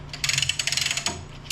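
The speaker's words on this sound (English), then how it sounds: "socket and the ratchet" A socket wrench ratchet clicks in a quick, even run of sharp close ticks lasting about a second, working on an old truck's engine after decades parked, with a short pause and one more click at the end.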